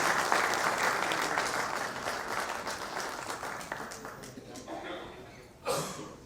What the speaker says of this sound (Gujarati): પ્લીઝ એક જોરદાર તાળી એમના માટે થઈ જાય.